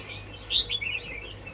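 A wild-caught male hwamei songbird from Tuyen Quang gives a few quick, bright chirps and short warbled notes, close and clear over a faint low hum.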